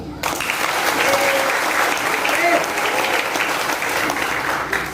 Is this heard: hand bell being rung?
no